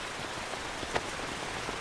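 Steady rain patters densely on surfaces outdoors, a constant even hiss with tiny droplet ticks and no voices, heard in a film scene as a man leaves a chess venue.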